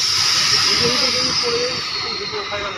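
A local train hisses and rumbles arriving at a station, a broad steady wash of noise with faint squealing tones, gradually easing off.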